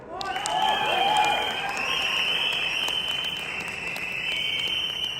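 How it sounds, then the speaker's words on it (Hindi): Audience at a Pollux event in Zirakpur applauding loudly with whistles, a sustained shrill whistle riding over dense clapping that swells early and then holds steady. "आप सीटी बजा रहे हैं, तालियां बजा रहे हैं"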